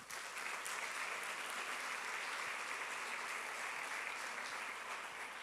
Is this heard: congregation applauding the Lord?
yes